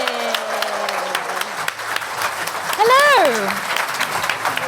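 A live audience at Global Birdfair applauds as a panel of three takes the stage, steady crowd clapping with a voice calling out a greeting and whooping over the top.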